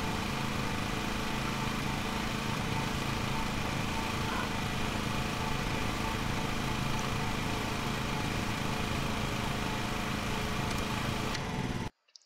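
A ride-on lawn mower driving in a lawn mowing simulator game, a steady droning engine hum running continuously and evenly at moderate level, cutting off abruptly at the end.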